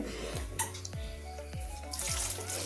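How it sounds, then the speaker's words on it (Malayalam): Water poured into a clay pot while cooking taro stem curry, heard as a few close splashy drips and pours repeating every half second or so, quiet and with no talking. "ഇനി ഇതിലേക്ക് സ്വല്പം വെള്ളം ചേർത്ത് കൊടുക്കുന്നുണ്ട് കേട്ടോ"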